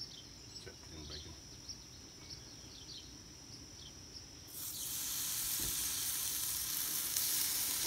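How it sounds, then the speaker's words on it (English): Bacon strips sizzle on a Blackstone griddle, a faint crackle that swells into a loud, steady broad hiss partway through, with light scattered pops and outdoor ambience behind. "We're getting our bacon down, get everything going."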